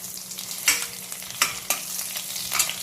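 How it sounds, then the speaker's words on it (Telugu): Mustard seeds and cumin frying in hot oil in a pan, a steady close crackling sizzle with a few sharp louder pops and spits scattered throughout, no voices. "ఆవాలు, జీలకర్ర, కొంచెం ఫ్రై చేయాలి, కొంచెం జస్ట్ అలా వేగనిద్దామని."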